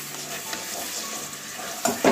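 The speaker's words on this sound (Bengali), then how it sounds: "মশলাগুলো নাড়িয়ে দিচ্ছি, মশলাগুলো লেগে যাচ্ছে একটু।" Spices stirred in a hot pan while a katla fish curry fries: a soft steady sizzle with brief scraping stirs, ending in two louder close scrapes of the spatula against the pan.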